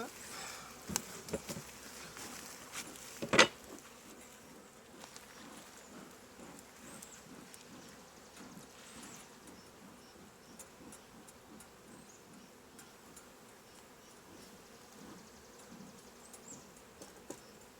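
Steady, fairly faint buzzing of honey bees around a hive during an inspection and honey harvest with a smoker, with a sharp knock near the start and occasional faint voices in the background.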